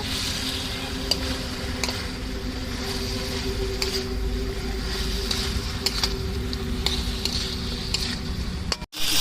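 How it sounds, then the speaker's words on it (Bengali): Previously fried pointed gourd (potol) being sautéed in a pan with a pinch of asafoetida for a vegetarian fennel dish: a steady, close frying sizzle runs throughout, with occasional sharp clicks from stirring and no talking. "ভেজে রাখা পটল একটু কষিয়ে নেব।"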